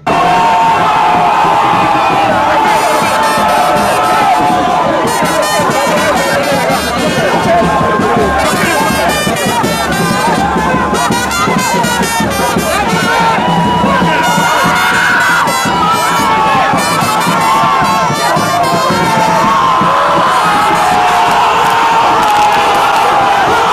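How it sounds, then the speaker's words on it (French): A large crowd sings and cheers loudly and continuously, with shouts and chanting rising over a dense wall of voices. "sous les chants et acclamations de ses sympathisants"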